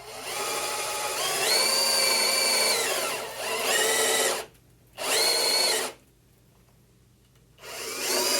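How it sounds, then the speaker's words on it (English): A power drill with a 5/8 bit bores into wood for a kitchen shelf build. The high, whining motor runs in three bursts with brief pauses between them, and its pitch dips as the bit bites and rises again as it runs free. "with the 5/8 bit, I'm going to drill about 5/8 deep."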